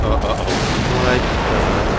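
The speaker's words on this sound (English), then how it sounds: "Oh, explosions." Heavy rumbling explosions and crackling blasts in the video game BioShock 2 pile up in a dense, continuous roar, loud and close, with voices faintly mixed in.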